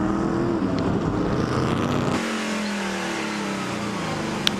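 Stock car engines roar and rev nearby at Circuit of the Americas heading toward the hairpin, one pitch dropping off as another car passes and fades, a loud continuous mechanical drone.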